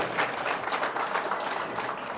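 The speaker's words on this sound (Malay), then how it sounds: "Saya rasa satu tepukan harus diberikan kepada semua" An audience at a Malaysian Indian community event gives a short burst of applause for parents, teachers and organisers, a fairly soft, even patter of many hands with no talk over it.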